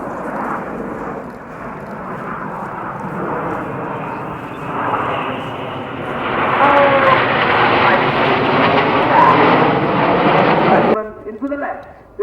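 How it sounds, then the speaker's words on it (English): Jet aircraft roaring past in close formation at an air show, a loud sustained rushing engine roar that swells and rises in pitch, then cuts off abruptly near the end. "they're going to fly a formation barrel roll as they show us the chevron roll"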